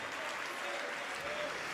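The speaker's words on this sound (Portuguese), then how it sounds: "E vamos aplaudir ao Senhor Jesus por cada vida que está chegando" A church congregation claps together in steady, dense applause that fills the whole clip without any break.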